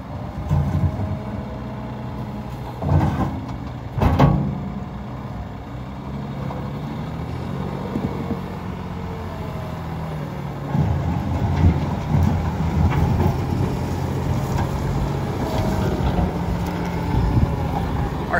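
A used Komatsu WA380 wheel loader, a local one-owner machine, works loading trucks, its diesel engine droning steadily up close with occasional clanks and revs swelling louder partway through.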